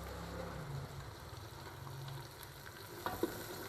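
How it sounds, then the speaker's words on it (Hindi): Chopped green onions dropped into a pan with chicken pota masala, a soft steady sizzle with stirring scrapes and a couple of sharp clinks near the end, fairly quiet, no talk. "अभी इसमें डालूँगी ये सब्ज़ वाले प्याज"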